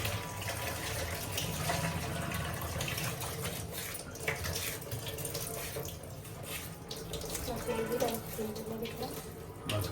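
Water runs steadily from a tap while rice is washed in a large pot for a mutton biryani, a constant close splashing flow with faint voices in the background.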